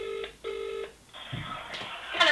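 A telephone sounds off alone: a pair of steady electronic tones from a dial or ring signal, broken by a short gap, then noisier handling and rustling as the call connects.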